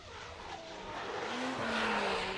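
Scion FR-S drift car on Formula Drift practice runs in Texas, fitted with a 2JZ engine, its tires squealing in a sustained, rising screech over steady engine roar that builds louder toward the end.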